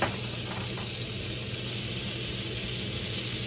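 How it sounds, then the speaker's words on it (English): Steady, even sizzling hiss of meat cooking on a hot grill, moderately loud and continuous with no voices. "We're gonna add our last batch of chicken breast to the grill."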